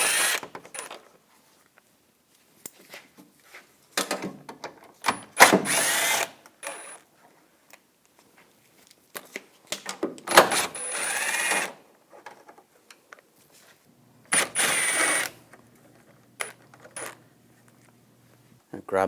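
A power tool with a 10mm socket spins out bolts at the base of the grille on a 2014-2018 GMC Sierra, several short loud whirring bursts separated by quiet gaps and small metallic clinks.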